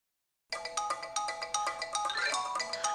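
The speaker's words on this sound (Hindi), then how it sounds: "ये किसका फोन आ गया?" A mobile phone ringtone starts abruptly and plays a bright, repeating melodic pattern, close and clear with no talking over it.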